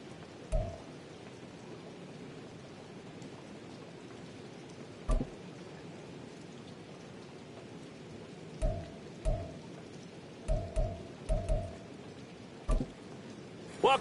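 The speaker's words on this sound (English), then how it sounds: "The rain set to continue as we are underway in the second half." Rain falls steadily across the field in a football video game, a soft continuous hiss with a scattering of brief low thumps, and no voices.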